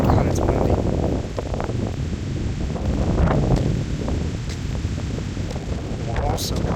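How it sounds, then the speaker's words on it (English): Outdoors by a house's flowerbeds and yard in Orange, Texas, wind rushes and buffets the microphone in steady gusts while someone speaks intermittently over the roar. "God, it's windy."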